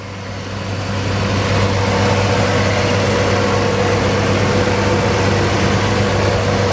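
A 1982 Ford F100 pickup truck engine idles steadily and loudly, a constant deep rumble with a faint mechanical whine, with no one talking.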